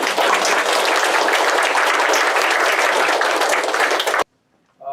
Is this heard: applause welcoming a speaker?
yes